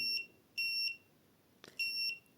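An Arduino RFID card reader in a score-tracking project gives three short electronic beeps as cards are scanned, evenly spaced and clear against a quiet background, with a faint tap before the last.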